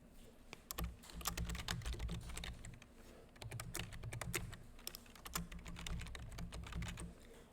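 Rapid clattering keystrokes on a computer keyboard while meter details are entered, close and fairly quiet, in bursts with short pauses and no voices.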